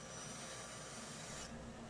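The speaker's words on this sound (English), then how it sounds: "I then smoothed and faired the curve of the templates at the bench using a spoke shave and a sanding block" Steady rasping and rubbing as a spokeshave and sanding block smooth the curved edge of a plywood template at a workbench, continuous and close with no pauses.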